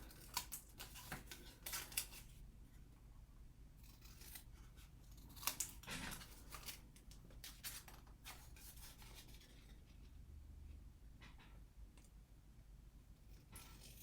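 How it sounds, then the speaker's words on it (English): Scissors snip and rub through paper, trimming along a line of stitches in repeated close cuts, with faint rustling between strokes and no voices. "So I'm just trimming right along the stitches."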